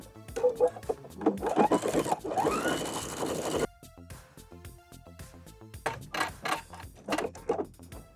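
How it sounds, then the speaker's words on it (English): A sewing machine stitches two pieces of fabric together for a skirt side seam, running in a steady loud burst, pausing, then resuming in shorter stop-start runs close up. "So I'm going to sew these two pieces of fabric together"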